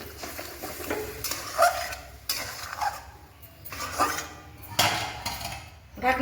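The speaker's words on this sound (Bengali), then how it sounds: "এবার দিয়ে দেবো ছাড়িয়ে রাখা মটরশুঁটি, মিশিয়ে নিচ্ছি" Shelled peas being stirred into a spiced curry in a pan, with irregular scraping and clinking of a utensil against metal over a soft sizzle, close and continuous with no talk.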